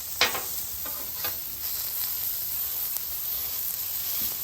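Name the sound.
smashing meatballs on a griddle, sizzling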